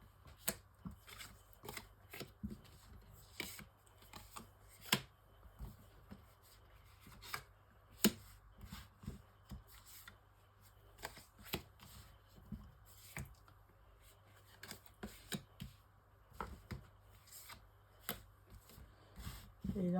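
Tarot cards for a nine-card spread are shuffled and handled in repeated crisp riffles and soft slaps, close and fairly quiet, with irregular bursts across a still room.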